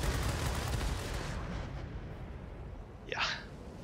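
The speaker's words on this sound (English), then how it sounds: "And you see the strength of those cannons." A burst of rapid aircraft cannon fire from a German Blohm und Voss BV P.203 in World of Warplanes rattles loudly, then fades into quieter background noise, with a brief sharp sound near the end.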